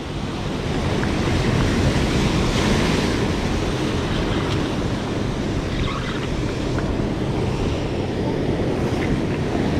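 Surf breaks in churning white water on a Long Island beach during fall striped bass fishing, a loud constant roar of waves with wind buffeting the microphone.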